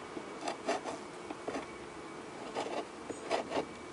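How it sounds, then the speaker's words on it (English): Faint, intermittent scraping strokes as propolis is scraped off wooden beehive frames, several short rasping bursts over a low bed of buzzing bees. "scraping some propolis off the frames so that it's not so tight"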